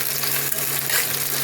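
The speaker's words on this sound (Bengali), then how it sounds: "এখন আমি এই পেঁয়াজ কুচানোগুলো একটু ভেজে নেবো হালকা করে" Chopped onions fry in a pan with a loud, close, continuous sizzle and crackle.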